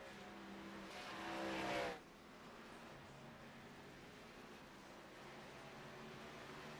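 Race cars in a racing video game drone around the track, one engine swelling as it passes close early on, then a steady distant roar of several cars continuing, with no talk.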